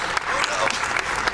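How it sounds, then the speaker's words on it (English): A brief burst of dense clapping from a speedrun marathon crowd at SGDQ 2014, steady and lively for just over a second. "Can we give Choco an applause?"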